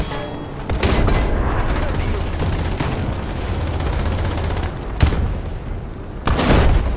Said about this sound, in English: Let's drop an artillery piece right down in front.